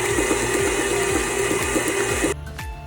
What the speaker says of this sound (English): You know when it's done, when it gives you a slapping sound.